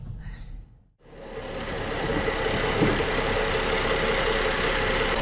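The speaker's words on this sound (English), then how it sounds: "The engine is running a lot better now since I got better fuel for it" A BMW X5 SUV engine with a rebuilt motor idling close by, a steady mid-pitched rumble with slight knocking texture that fades in after a brief dip and holds evenly, alone without talk.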